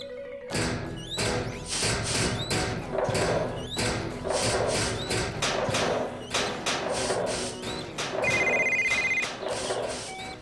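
A telephone bell rings loudly and insistently in a cartoon setting, in repeated bursts that go on for about ten seconds with a few thumps between them and no voices.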